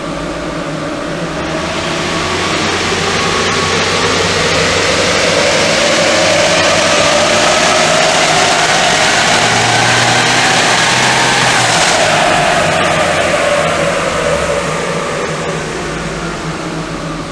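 An Isuzu D-Max engine on a dyno run revs up, a loud close roar rising in pitch over several seconds, holding near peak, then falling back as the revs drop, with steady broadband rumble throughout.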